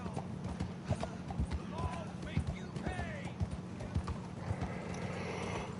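Horse hooves clip-clop steadily in Red Dead Redemption 2, close and rhythmic, with a whinny and game ambience layered over them and a voice speaking briefly.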